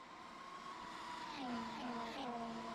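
Formula 1 race cars at the 2025 Australian Grand Prix sound as a faint, distant engine whine that holds steady, then slides down in pitch as the cars move away.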